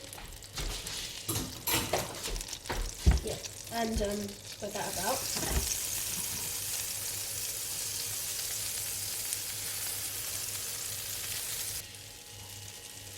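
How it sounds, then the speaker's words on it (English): Steady sizzle of butter frying in a pan, with a few utensil scrapes and a brief spoken remark at the start before the hiss continues alone. "So now we add a tablespoon of butter to your frying pan."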